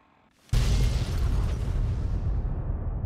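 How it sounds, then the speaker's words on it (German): A sudden loud boom erupts in a modded Fallout 3 game after a short quiet start, then a dense roaring rumble sustains and slowly fades over the next few seconds. "Das war doch eine nette Explosion."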